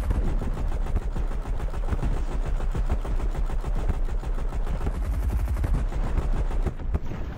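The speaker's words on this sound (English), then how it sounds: "Here's the freaking SMG." SMG gunfire in Fortnite rattles in long, loud, rapid bursts of dense shots, nearly continuous and up close, briefly cutting off just before the end.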